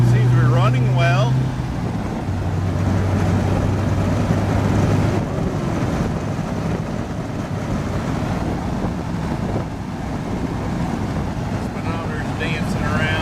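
An MGB on the road with its engine running; it needs new tires and shakes a little. A continuous engine drone sits under heavy wind buffeting while someone talks over it.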